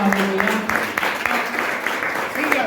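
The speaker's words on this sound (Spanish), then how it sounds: "A su nombre, le fuerte el aplauso al Señor," A church congregation applauding during a sermon, a full and steady clapping wash with scattered louder claps and voices carrying over it.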